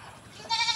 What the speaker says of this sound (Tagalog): yung mga kambing natin guys, yan. Ayan sila.